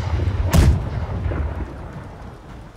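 A single heavy cannon blast from a ship's side guns in a video game booms close by, followed by a rumbling echo that fades away over the next couple of seconds.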